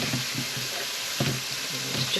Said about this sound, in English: I'm just going to give this a bit of a stir